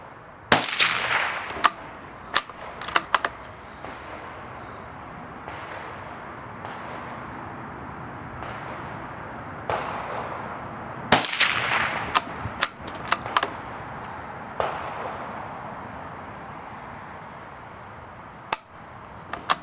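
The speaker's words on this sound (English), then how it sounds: "I am going to shoot these at the target just diagonally to the left of the last one I just shot." A Savage Mark II .22LR rifle fires CCI Stinger rounds at a target outdoors, sharp cracks spaced irregularly, some in quick pairs, with long quiet gaps between and no speech.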